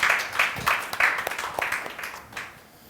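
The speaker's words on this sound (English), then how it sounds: "Give yourselves another big round of applause." A group at an office game applauds with a short burst of rhythmic clapping that fades away within about three seconds.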